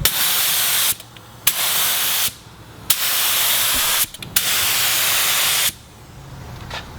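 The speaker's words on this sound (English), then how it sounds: "Let's pour it in the gun. We got paint in the gun. I'm just gonna kind of start spraying, mess around with the settings" A paint spray gun lays primer on a Mazda RX7 in loud, close hissing bursts, about five sprays of varying length separated by brief quiet gaps.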